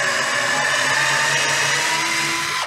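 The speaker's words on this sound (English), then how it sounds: "let's use this number 7 in reverse and try to pull these screws out" An electric screwdriver spins in reverse, backing screws out. Its steady whirring motor hum runs at close range and stays constant for a few seconds, with no speech.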